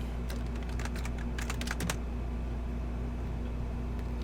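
Someone typing on a computer keyboard, a short burst of quick, close clicks over a steady low hum, then the keys stop and only the hum remains.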